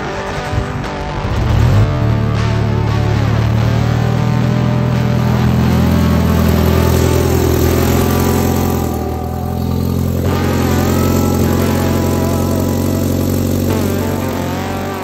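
A Honda Integra Type R engine revs hard, climbing through rising pitch sweeps and falling back, loud and close, with the roar holding steady for about fifteen seconds and no talk over it.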